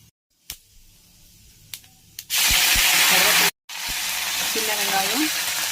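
Fennel seeds and red chillies sizzle and crackle loudly in a hot kadai, a burst of steady frying noise after a few faint clinks, briefly cutting out before the loud sizzle resumes.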